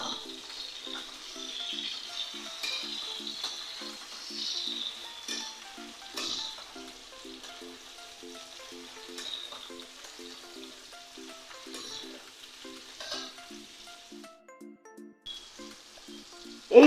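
Potatoes and prawns frying in a pan for a Bengali gati-chingri dish, a soft continuous sizzle with faint stirring knocks, close and fairly quiet, ending in a sudden loud clatter.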